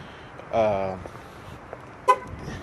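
A Dodge Ram pickup sounds its horn as it is locked: one clear honk lasting under half a second, then a short, sharper chirp, both close by over quiet outdoor background.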